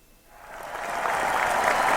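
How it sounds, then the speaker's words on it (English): Applause from an audience at a sports talk broadcast swells up from near quiet into a steady, dense round of clapping that holds loud to the end. "they get an astounding round of applause for doing that"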